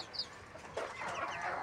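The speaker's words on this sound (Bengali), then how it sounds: "এই মুরগিগুলা সবগুলাই প্রায় সবগুলাই এখানে আক্রান্ত হয়ে গেছে" Sick chickens infected with disease clucking in a flock, soft scattered clucks and murmurs close by with a slightly louder stretch of calls toward the end.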